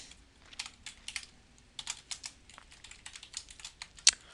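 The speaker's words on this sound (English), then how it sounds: "So I type in weight squared" Fingers tap on a computer keyboard while entering a spreadsheet column, a quiet, close run of irregular clicks in short bursts with one sharper keystroke near the end, no speech.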